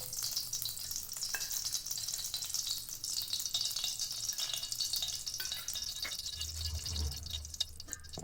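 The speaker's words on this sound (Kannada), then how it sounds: "ಪಾತ್ರೆ ಬಿಸಿ ಆದ ನಂತರ ನಾನು 3 ಟೇಬಲ್ ಸ್ಪೂನಷ್ಟು ಎಣ್ಣೆ ಹಾಕ್ಕೊತಾ ಇದ್ದೀನಿ." Three tablespoons of oil heat in a pan on a gas stove, giving a continuous bright crackling sizzle that stays fairly steady throughout, close but moderately quiet, with no talking.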